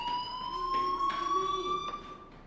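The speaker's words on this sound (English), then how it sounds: "do you hear that fire alarm?" A school fire alarm ringing in the game Life is Strange, a steady shrill electronic tone sounding continuously at moderate distance, with faint clattering behind it.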